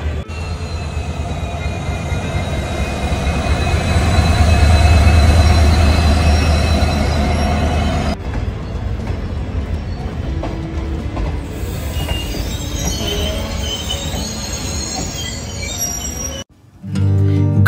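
The Kanchankanya Express, a passenger train, runs through the Dooars with a steady heavy rumble and rhythmic clatter, its wheels squealing on the rails; the noise shifts and thins midway, then drops out briefly near the end before returning.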